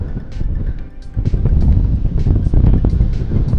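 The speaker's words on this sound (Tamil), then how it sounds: "என்ன காற்று அப்பா, நடக்க முடியல." Strong wind on a hill path during a pilgrimage walk to Uganthai in Sri Lanka produces loud, heavy, gusting rumble and buffeting against the microphone, rising and holding steady.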